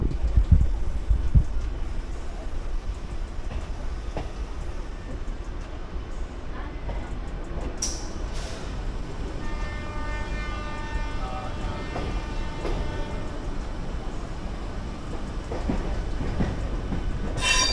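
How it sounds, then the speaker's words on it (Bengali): An all-stops Howrah to Bandel local passenger train, decorated for the Howrah division's centenary, runs close by with a continuous rumble and wheel clatter and a brief sharp squeal partway through. "দেখো হাওড়া থেকে ব্যান্ডেল এই ট্রেনটা কিন্তু অল স্টপেজ"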